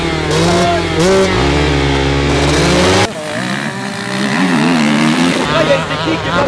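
A motorcycle engine revs hard and continuously at a race start, loud and close, its pitch rising and dropping as the throttle is worked.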